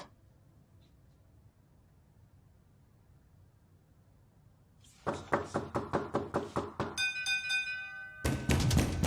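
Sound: knocking on a door

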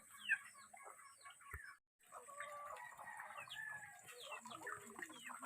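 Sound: chickens clucking

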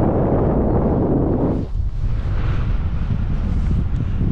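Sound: strong wind blowing on a mountain during enduro ride

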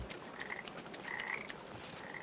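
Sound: frog croaking in video game Papo & Jo

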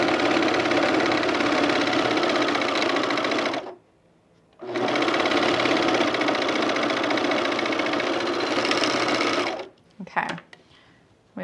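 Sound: sewing machine stitching pajama bottoms

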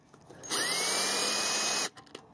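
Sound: power drill removing screws from CRT TV band

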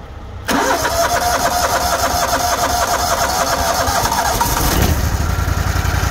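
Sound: engine of a grain-hauling vehicle running roughly in the cold

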